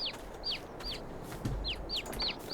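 Chickens and chicks in Farming Simulator 22 peeping and clucking, a series of short high chirps repeating at an irregular pace over a faint farmyard background.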